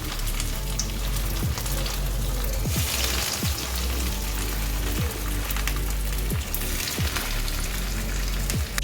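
Chicken cutlets frying in hot oil, with a steady, dense crackling sizzle throughout and a few soft knocks in the pan, no talking.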